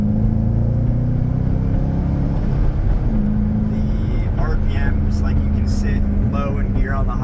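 A Chevrolet Corvette C5 with a manual gearbox drones steadily while driving, the engine note dipping briefly around a gear change and then settling again, as a person talks over the cabin noise.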